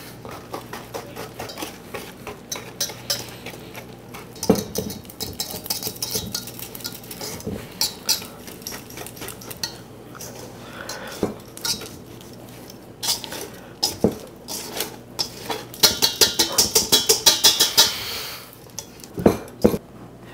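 Cookie dough is whisked in a bowl with repeated clinks and scrapes of utensil against the bowl. Soft, sporadic strikes build into a rapid burst of fast rhythmic tapping near the end.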